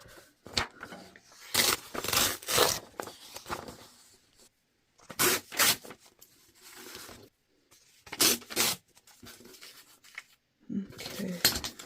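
Scissors cutting out paper doll figures for a mixed-media winter village scene, with repeated crisp snipping and rustling of paper in irregular bursts, close up, with brief pauses between cuts.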